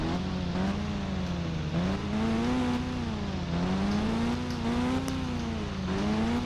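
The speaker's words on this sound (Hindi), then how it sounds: "आवाज़ तो इसकी मस्त है एकदम बाइक की" A video game motorbike engine drone rising and falling in pitch as the throttle revs, continuous and loud throughout, in Indian Bike Driving 3D.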